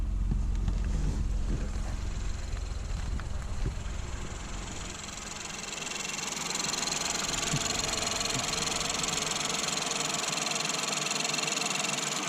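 A Ford Fiesta SFE engine idles smoothly and evenly close by, a steady low hum and faint mechanical patter with no talking.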